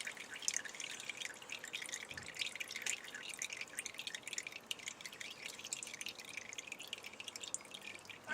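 Bone broth drains with a continuous soft trickle and patter of dripping liquid while bones are picked out by hand, quiet and steady throughout.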